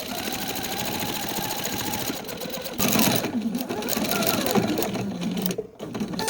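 A sewing machine runs fast around the edge of a scrappy quilt, a loud steady whirring stitch that pauses and restarts, with a person talking over it.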